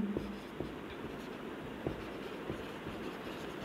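Quiet pen strokes on paper, with light scratching and a few soft taps, as dimension annotations are lettered onto a civil engineering steel column-to-beam connection drawing, over a steady background hum.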